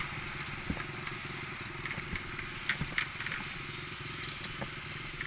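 A dirt bike engine at an ATV park idles in a steady, rough, mid-pitched rumble with a few light clatters, heard close and fairly quiet with no talking.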